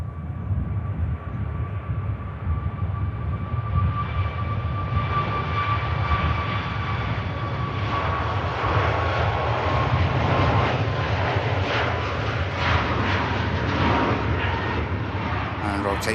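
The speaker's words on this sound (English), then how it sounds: "the Ryanair Max 8200, Juliet Foxtrot Curry, is on the departure roll" A Ryanair Boeing 737 Max 8 on its departure roll at Manchester Airport, a steady loud engine roar with a rising whine that builds and broadens midway, sustained without a break in the background.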